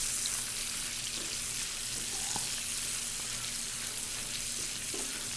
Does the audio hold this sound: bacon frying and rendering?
yes